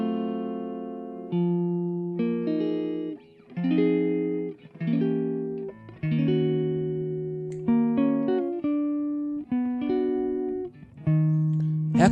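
Isolated hollow body electric guitar stem from a Christmas pop song, playing clean sustained chords and melodic phrases alone, with notes ringing and changing in a steady musical rhythm.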